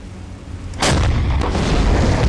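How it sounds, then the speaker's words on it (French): A submarine deck gun in Silent Hunter 5 fires a single loud, close boom whose rumble lingers and trails off, with no talk. "Allez, on va le finir au canon."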